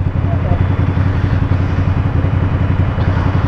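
A KTM Duke 390 motorcycle engine idles near and loud, a steady, even low rumble that holds through the whole stretch.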